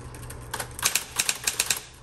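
Keys strike in a quick uneven run on a Smith Corona Electra 220 electric typewriter, about eight or nine sharp clacks close by over a steady low motor hum, with no talking.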